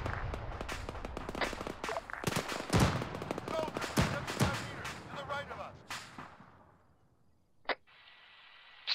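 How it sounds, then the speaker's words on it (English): Gunfire in the Arma 3 video game: rapid bursts of rifle and machine-gun shots, loud and overlapping for several seconds, then tapering into a quiet lull broken by a single sharp crack. "Enemy fire! Right of the road."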